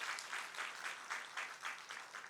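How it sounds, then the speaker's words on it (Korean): Worshippers at a church service clap to bless a newly formed household, the applause swelling and easing in quick, rhythmic surges at moderate volume with no speech on top. "우리 두 사람의 가정을 위해서 우리가 축복하는 마음으로 박수를 먼저 하겠습니다"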